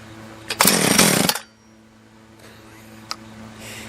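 A Husqvarna 455 chainsaw engine with its carburettor mixture set 1.5 turns out revs in one loud, rough burst of about a second, then drops away to a quieter idle with a small knock.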